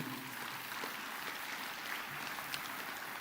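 Faint, distant applause fills a university convocation hall, a steady wash of clapping from a large audience with no talking over it.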